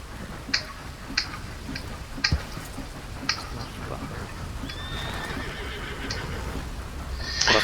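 A horse neighs in a video game, its whinny rising out of a steady ambient background broken by scattered sharp ticking clicks.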